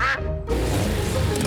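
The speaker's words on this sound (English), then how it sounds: "Hello, ducks." Cartoon ducks quack in a short burst at a pond, loud and close, with a bright squawk at the start followed by a dense busy tail of sound.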